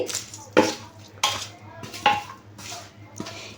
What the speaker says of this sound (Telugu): పోపు వేసుకున్నాక ఒకసారి బాగా కలుపుకునేయాలి